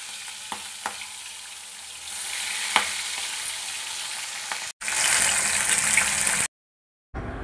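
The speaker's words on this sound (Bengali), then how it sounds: "কড়াইতে আরও কিছুটা পরিমাণে সরষের তেল দিয়েছি, দিয়ে মাছগুলো ভেজে নেব।" Rohu fish frying in mustard oil in a wok gives a steady, close sizzle that swells louder about two-thirds of the way through, then cuts to a brief silence before the crackle resumes; no voices.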